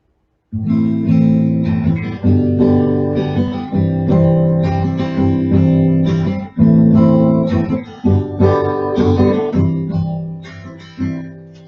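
Rapid rhythmic guitar strumming, loud and close, with steady down-up strokes repeating in a driving pattern for the whole stretch.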